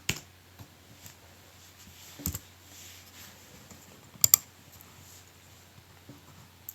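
A few sparse computer keyboard clicks as a short patch comment is typed, faint isolated taps with a couple of sharper double clicks standing out against near silence.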